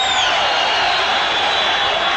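A packed arena crowd roars steadily at a pro boxing bout between Paul Banke and Daniel Zaragoza as a round ends, a dense, continuous wall of cheering and shouting heard up close.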